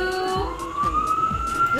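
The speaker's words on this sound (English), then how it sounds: "sorry about that siren" A siren in the Transit City 3 subway train video game sweeps slowly upward, steady and moderately loud, with faint rhythmic thumps underneath.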